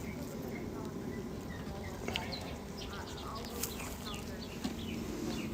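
Honey bees swarm around an open hive during a winter inspection, a dense, continuous buzzing drone close by, with faint speech now and then.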